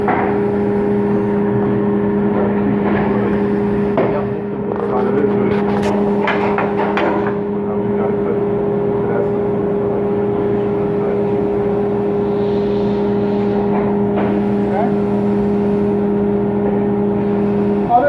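A table saw runs in a woodworking training shop, giving off a steady, loud motor hum with a constant pitch and a few faint clicks and knocks of handling. No voices.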